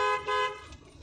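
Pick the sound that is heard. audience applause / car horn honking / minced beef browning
car horn honking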